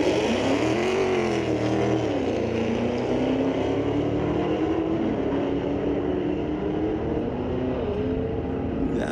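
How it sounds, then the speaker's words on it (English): A 4x4 truck creeps along the drag strip start line at Mission Raceway Park during street legal drags, its engine a loud, steady low rumble that swells slightly and holds for several seconds. "That 4x4 doing a little driving on the start line."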